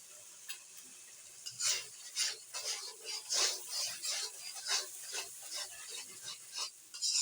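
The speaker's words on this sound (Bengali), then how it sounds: "মশলাটাকে একটু ভালো করে কষিয়ে নিচ্ছি" Spice masala stir-fried in a pan, a spatula scraping in repeated rhythmic strokes over a soft sizzle, close but fairly quiet, with no voices.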